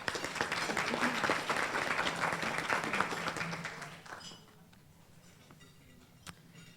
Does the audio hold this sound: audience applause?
yes